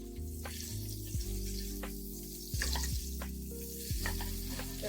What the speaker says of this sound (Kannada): ಅದೇ ಪ್ಯಾನ್ಗೆ ಇವಾಗ ಮತ್ತೆ 1 ಬಟರ್ನ ಹಾಕೋತಾ ಇದ್ದೀನಿ.